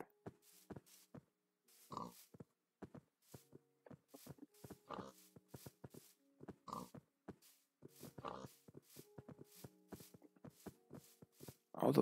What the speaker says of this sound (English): Three pigs?